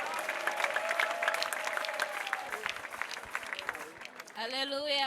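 A church congregation at an evening prayer service applauds, a dense, steady wash of clapping and crowd noise throughout, with voices mixed in and a louder shout rising near the end.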